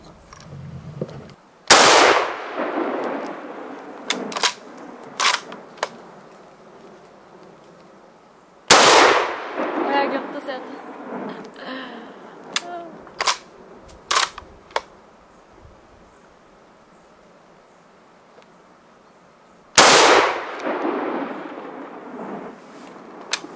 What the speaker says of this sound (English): we're going to shoot three rounds with Norma factory hunting ammunition